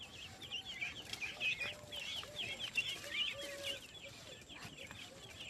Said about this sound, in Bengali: হাঁস মুরগি আছে বন্ধুরা।